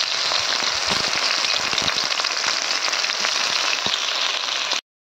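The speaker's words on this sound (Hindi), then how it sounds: "एबे प्याज जाक पकै देबा सब" Onions fry in a hot pan for a village-style prawn and coconut curry, giving a dense, steady sizzle that holds loud and even before cutting off abruptly.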